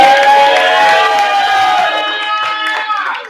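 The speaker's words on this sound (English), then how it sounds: "Can I get another round of applause for Jamie Varney?" Crowd applause and cheering for a performer named Jamie Varney, a dense steady wash of clapping with whoops on top, fairly loud and close, gradually thinning toward the end.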